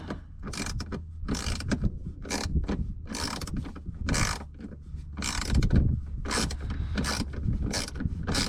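A ratchet works loose the small bolts holding the blower motor on a 2008 Chevy Express van, giving bursts of quick metallic clicking in a steady, close, repeated rhythm with no talking.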